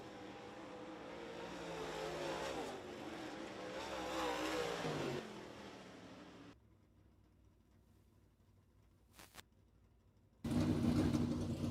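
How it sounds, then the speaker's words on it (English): A race car engine, the 57 car, running a little warm at a Lucas Oil qualifier, loud roaring and revving for several seconds before dropping away, then a brief buzz and a renewed loud engine burst near the end. "Sounds like the engine on the 57 car running just a little warm"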